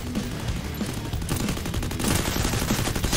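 Dense automatic gunfire in a Free Fire ranked match, rapid bursts rattling continuously at steady loudness for the full three seconds with no talking.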